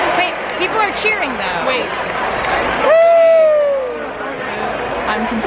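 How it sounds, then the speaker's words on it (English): Crowd at a baseball stadium cheering and chattering, a broad roar of many voices with a whistle-like rising shout near the middle, and nearby people talking over it. "Cheering"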